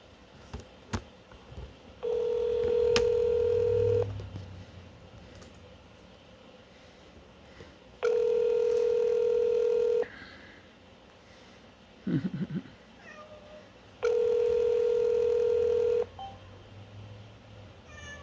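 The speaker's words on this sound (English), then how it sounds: "let's start with this phone call here" Telephone call: a repeating ring tone sounds three times, each burst about two seconds long with long gaps between them, in a fairly quiet room with a brief soft rustle in between.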